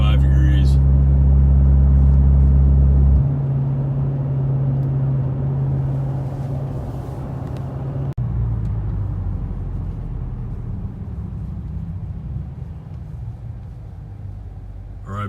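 A 2014 Dodge fitted with an aFe Magnum FORCE Stage-2 Pro Dry S cold air intake drives along, its steady engine and road rumble loud and close, easing down in level partway through as the vehicle settles into cruising.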